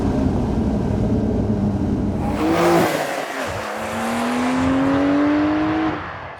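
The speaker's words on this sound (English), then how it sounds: "there's even automated downshift rev matching, which makes for some spectacular fun" A Porsche 911 engine with automated downshift rev matching revs, rising and falling as the car downshifts and blips the throttle, then pulls with a steadily climbing tone, loud and close over steady road noise.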